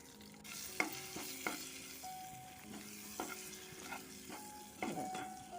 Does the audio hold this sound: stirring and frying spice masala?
yes